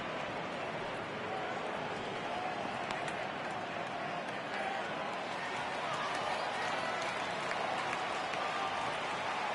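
A baseball crowd at a White Sox at Detroit Tigers game rises and cheers at a full count, a broad steady roar of many voices and scattered applause filling the ballpark, sustained and even throughout with some murmured talk beneath.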